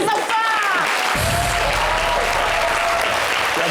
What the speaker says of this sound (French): Applaudissez pour Mounia